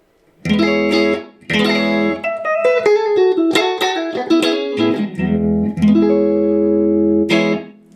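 Clean electric guitar through a Marshall Origin 50 combo amp, a few strummed chords and a melodic run with sustained ringing notes, bright and full, no voices.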